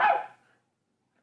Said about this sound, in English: In the garden, Nana looks at the sky and barks.